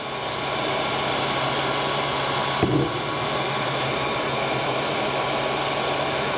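A heat gun blows a steady, loud rushing hiss while shrinking heat-shrink material, a continuous airflow roar with one brief knock partway through and no talking.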